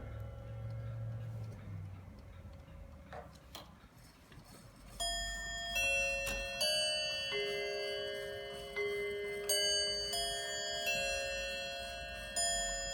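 A Seth Thomas Sonora chime clock plays the Westminster chime on four notes, its bell tones ringing out clearly in a sequence of sustained, overlapping strikes after a soft ticking start.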